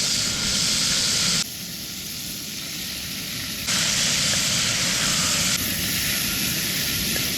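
Beef browning and sizzling in hot oil gives a loud, steady hiss that shifts in brightness from moment to moment as it cooks, with no talking over it.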